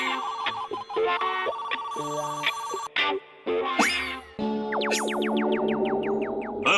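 A phone rings with a processed, electronic ringtone, a fast repeating trill and rising chirps that cut in and out over several seconds, loud and close with no voices over it.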